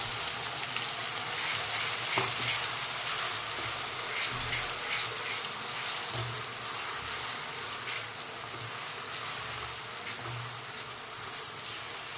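Onion, ginger and garlic paste frying in hot oil for a Gujarati tuvar totha curry, giving a steady, dense sizzle that holds close and even throughout with no talking.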